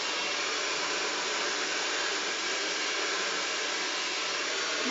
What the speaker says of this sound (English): keeping the hairdryer above the brush and up above your head